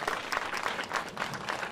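An audience at a live film premiere applauds to welcome a guest, with dense, steady clapping from many hands in a hall that holds throughout.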